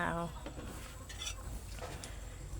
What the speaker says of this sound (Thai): ค่อยๆคนนะคะ เนื้อส้มโอจะได้ไม่แตกค่ะ